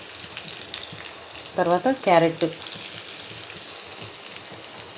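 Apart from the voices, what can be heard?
onion frying in a pan for egg chapati rolls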